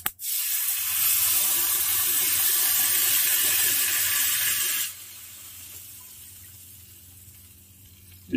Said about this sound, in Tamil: இதில் கொஞ்சம் தேவையான அளவுக்கு தண்ணி ஆட் பண்ணிக்கிறேன்.